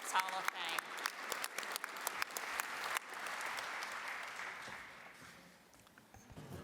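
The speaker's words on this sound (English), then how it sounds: "Please join me in a round of applause for these former inductees of the Alabama High School Sports Hall of Fame." An audience applauds former inductees at the Alabama High School Sports Hall of Fame induction ceremony, a dense burst of clapping that fades into a softer, thinning patter.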